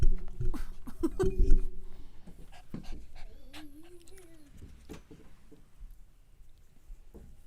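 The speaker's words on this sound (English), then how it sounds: "That's my dog, Charlie." A dog pants loudly up close, breathing in quick bursts, then lets out a soft, rising whimper as the panting fades.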